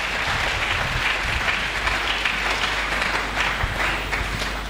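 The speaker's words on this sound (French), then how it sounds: "Est-ce que nous pouvons acclamer très fort?" A church congregation applauding loudly during a sermon, a dense, sustained wash of many hands clapping at once, with faint cheering mixed in.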